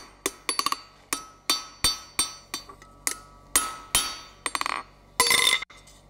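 A dozen sharp metallic hammer taps on hot steel over an anvil ring out close by in an uneven rhythm, finishing with a brief harsher burst of clatter.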